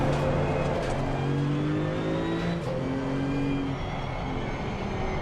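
A Porsche 935 GT2 race car in Assetto Corsa Competizione drones at a steady, loud engine tone with gliding pitch shifts as it runs slow laps, continuous and close with no voices.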